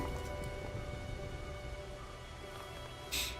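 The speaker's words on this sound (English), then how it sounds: "This is like my first time experiencing the rain with ray tracing on." Rain falling in the video game Wuthering Waves with ray tracing on, a steady soft patter with a faint musical tone under it and a brief brighter splash near the end.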